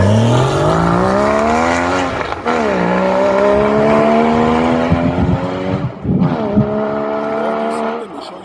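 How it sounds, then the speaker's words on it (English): A Porsche GT4 accelerates hard through the gears, its engine rising loud and close with clear drops at each upshift, heard from inside the car. "here's Rich driving a GT4 for the first time"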